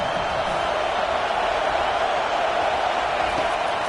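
Stadium crowd in an NCAA 25 college football video game, a steady, dense roar of many voices that holds at a constant level with no breaks, loud and close.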